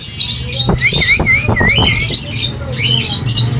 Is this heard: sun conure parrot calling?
yes